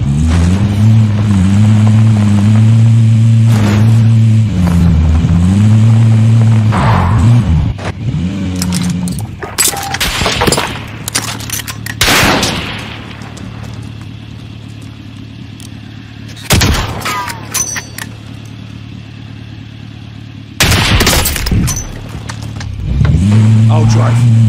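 A vehicle driving in Call of Duty Warzone, a loud steady engine drone that drops away into a scatter of gunshots and impacts, then the engine returns near the end, with voices talking.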